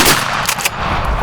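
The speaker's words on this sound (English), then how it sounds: "Pretty sure you shot this one." A short burst of loud gunfire crackles during an outdoor turkey hunt, with sharp repeated blasts packed into about a second that ring out close and hard.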